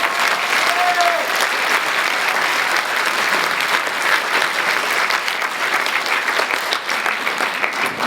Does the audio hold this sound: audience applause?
yes